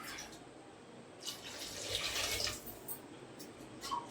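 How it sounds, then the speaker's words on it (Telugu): Tap water runs into a pressure cooker holding tomato dal, a steady close splashing flow that swells briefly in the middle before settling. "ఇంకా వాటర్ అయితే యాడ్ చేస్తున్నా."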